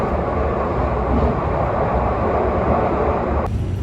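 A Glasgow Subway train running through its tunnel gives a loud, steady rumbling roar that continues unbroken, with a shift in the hiss near the end.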